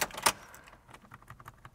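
A car key slides into the ignition with a bright metallic jangle of the keyring, one sharp rattle followed by a few faint clicks and small knocks inside a car that will not start.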